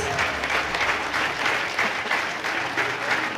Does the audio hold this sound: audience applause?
yes